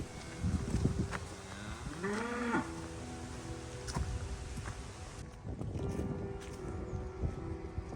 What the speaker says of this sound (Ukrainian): Чую звук корови.